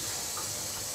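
Water pours in a steady, close rush, poured over potato chips to melt them into mash.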